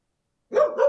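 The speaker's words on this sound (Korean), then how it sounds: "강아지 개" After a moment of silence, a single dog bark sounds sharp and close, played as a short recording in an animal sound guessing quiz.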